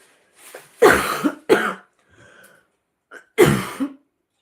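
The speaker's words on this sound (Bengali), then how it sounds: "তোমরা সেটা গলা শুনে আর আমার কাশির আওয়াজ শুনেই বুঝতে পারছো প্রচুর ঠান্ডা লেগেছে" A woman suffering from a bad cold coughs several times in harsh, close bursts, a pair of coughs followed by a pause and another single cough.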